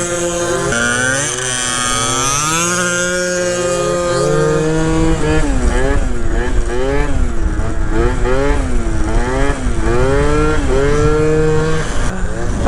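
A Honda Elite 50cc two-stroke scooter engine, an AF16 wheelie build, revs loud and close with rising and falling pitch sweeps. The engine note climbs and dips repeatedly through the whole stretch.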